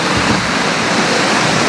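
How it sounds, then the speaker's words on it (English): Hurricane Harvey floodwater surges in a steady, dense rushing roar, close and loud throughout, with no talking heard. "you see the force of this water"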